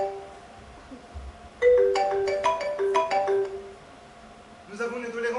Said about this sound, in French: La symphonie de sonnerie de téléphone est de retour dans ma classe.